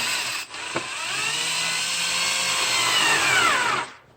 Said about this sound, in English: I've got my gyro screwdriver, which is super handy. I should just be able to place that up into that bolt